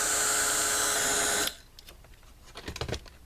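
A heat gun runs for heat embossing white powder over ink, a loud steady whirring blast that stops abruptly halfway, followed by quiet handling noises.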